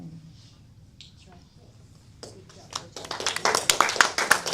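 Clapping from people at a school district community meeting, starting faintly after talk and rising into a close flurry of quick claps by the end.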